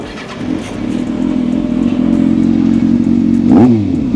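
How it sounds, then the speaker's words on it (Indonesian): A 2012 Kawasaki ZX-6R motorcycle with an aftermarket exhaust idles with a deep, throaty rumble, holding steady before a quick rev near the end. "sekarang kita coba cek sound yuk. Ini dia knalpot dari Aero ProRes"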